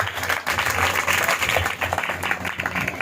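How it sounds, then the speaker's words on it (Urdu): Congregation at a church sermon clapping loudly together, a dense continuous burst of applause with no voice over it. "آئیے ایک دفعہ زوردار تالی بجا کر خدا کا کلام کریں گے۔"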